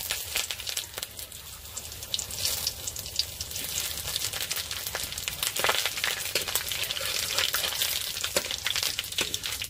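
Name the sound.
dried chilli and spices sizzling in mustard oil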